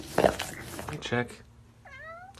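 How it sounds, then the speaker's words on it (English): A cat gives one short, rising meow from under a rug, faint and muffled, after a stretch of people talking nearby. "Is there a cat under this rug?"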